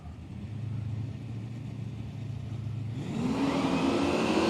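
Drag racing cars at Willowbank Raceway, including a Valiant with a 440 big block: a steady engine drone holds, then swells into a louder, rising rev as a car launches, loud and alone.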